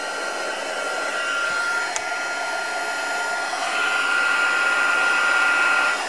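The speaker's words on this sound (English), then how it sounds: "I've got to attack that with a heat gun again" A heat gun blowing hot air for craft embossing gives a loud, steady, close whooshing roar that runs the whole time, with a brief tick partway through and no talking.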